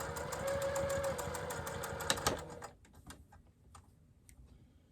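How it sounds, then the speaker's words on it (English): A sewing machine runs a quick, steady stitch along a small 2-inch D-ring piece of a crossbody bag, then stops abruptly, followed by a few faint clicks and handling sounds. "we're just going to sew up and down either side of it like we did with the straps"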